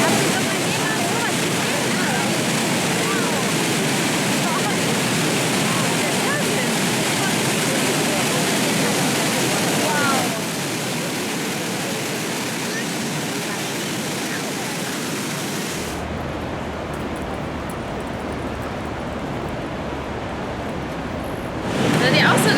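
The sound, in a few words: thundering water of Iguazú Falls, Devil's Throat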